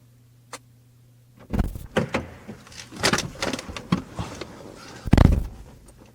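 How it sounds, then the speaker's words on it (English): A door opens nearby with a clatter of handling and latch noises, a few irregular knocks and scrapes and a louder bang near the end, no voices. "open the door"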